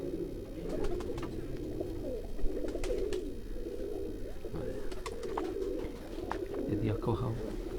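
Tiger pigeons coo in a soft, low, repeated pattern close by amid a busy flock, with bits of background chatter and clatter around them.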